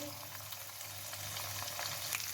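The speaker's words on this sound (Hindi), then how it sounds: "अब इसमें 1 टेबलस्पून लहसुन और अदरक का पेस्ट डाल देंगे" Garlic and ginger paste sizzling in hot oil, a dense, steady crackling fry heard close up with no talking.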